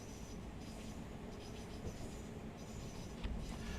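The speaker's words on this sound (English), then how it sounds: "Just going to shut back the power, let it roll round into Rochester." Steady low rumble of a Class 700 Thameslink electric train coasting with power off in Train Sim World, rolling along toward Rochester in the rain; even, continuous running noise with no talk.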